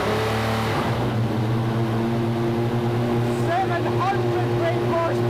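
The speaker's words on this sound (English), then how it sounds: "First of all, we have the ignition. Everything lights up. Followed by the fuel pumps. Followed by the injectors. And then the starter." A 700 horsepower car engine starts and idles with a deep, steady rumble, close and loud, while people talk over it.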